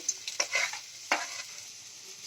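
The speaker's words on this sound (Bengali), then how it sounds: "ওই তেলেই আমি গ্রেভির উপকরণগুলো ভেজে নিচ্ছি" Chopped garlic and ginger frying in hot oil for a Manchurian gravy, a steady close sizzle with a few sharp stirring scrapes and spatters, no voices.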